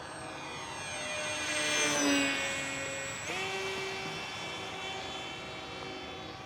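A ReadyMadeRC Mini Skyhunter RC plane flies figure eights over a runway, its steady motor and propeller whine rising as it passes close and then shifting lower as it banks away, heard alone.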